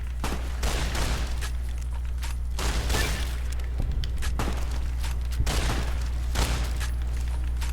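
Caravan shotgun fired with poor ammo in Fallout New Vegas, repeated booming blasts at irregular intervals, each trailing into brief reverberation over a constant low game hum.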